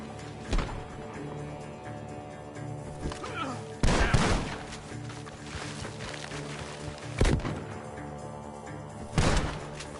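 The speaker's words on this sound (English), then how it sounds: "The gunshots are coming from that barn." Several sharp gunshots crack out at intervals over a low steady ambient hum in Red Dead, coming from a barn, a few close and loud, others more distant, with a faint murmur beneath.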